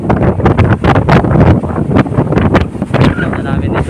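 Strong gusts buffet the microphone in loud, roaring bursts, with a rushing wash of waves beneath, out on open water while fishing off Cabra.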